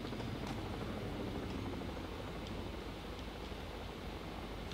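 A hovering drone in the video game Batman: Arkham Knight gives off a steady, faint, whirring rotor drone with a broad noisy hum that holds level throughout, no voices over it.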